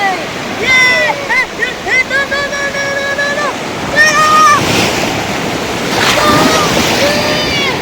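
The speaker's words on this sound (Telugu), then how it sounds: "అలలు పెద్దగా వస్తున్నాయి." Big ocean waves break on Kovalam beach, where a river meets the Arabian Sea, with a steady roaring wash and wind noise as a voice talks over it in the foreground.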